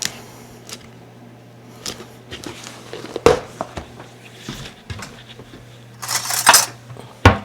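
A teaspoon and other utensils clink and clatter sharply while oatmeal peanut butter cookie dough is prepared, with scattered metallic knocks and a louder burst of rattling near the end over a steady fan-like hum.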